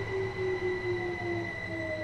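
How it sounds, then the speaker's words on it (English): Steady rumble of a train rolling over rails in the Train Sim World game on the Eastbourne to Brighton line, with sustained wheel squeal tones held over a constant low drone, close and even. "Oh, there's another train coming."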